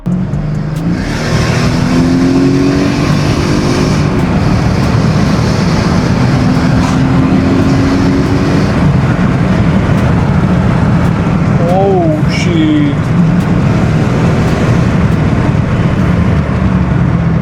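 A Mercedes-Benz W211 with the M113 5.0-litre V8 runs with a loud, continuous deep rumble close by, rising in a couple of revving sweeps.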